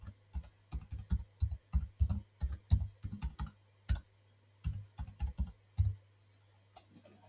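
Fingers type a file name on a computer keyboard, quick bursts of close key clicks in short clusters with brief pauses between, alone with no talking.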